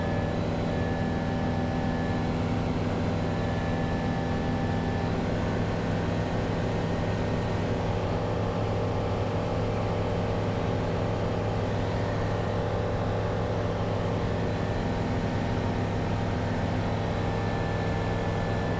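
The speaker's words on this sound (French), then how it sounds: "Au moins tu sais que le moteur il tourne." A small CTLS light aircraft engine gives a steady droning hum with strong low tonal bands, running continuously and unchanging throughout, fairly close and loud.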